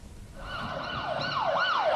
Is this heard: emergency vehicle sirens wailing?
yes